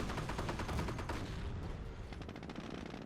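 A Panzerfaust fired at a Sherman tank in the World War II strategy game Company of Heroes, amid a dense, continuous rattle of gunfire and blasts that fades slightly toward the end.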